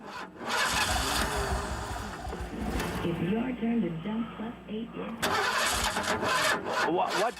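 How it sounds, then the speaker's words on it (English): A car stuck in the middle of the street that will not start, its engine cranking and sputtering in repeated attempts, heard over a phone line amid talk and a television in the background. "Listen to my car."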